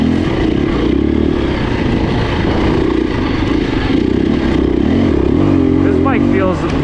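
KTM 350 enduro motorcycle engine droning steadily while riding, loud and continuous with wind buffeting, and a brief rising rev near the end.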